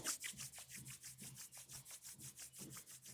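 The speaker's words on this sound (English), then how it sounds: "Gently rub your palm." Palms rubbing together in a quiet yoga cooldown, a steady series of soft, rhythmic swishing strokes, close and gentle, with no talking.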